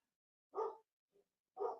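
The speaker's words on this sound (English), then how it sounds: "I don't know if you can even hear her barking" A dog barks twice in a quiet room, with a soft yip between the two barks. The barks are faint and come from a short distance away.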